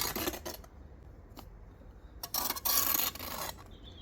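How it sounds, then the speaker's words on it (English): A trowel spreads lump-free sand and cement mortar onto a loose coping stone laid over paving slurry, making close, scraping and rasping strokes in short, irregular bursts, with a longer, louder stretch near the end. "So, apply your sand and cement, lump-free sand and cement."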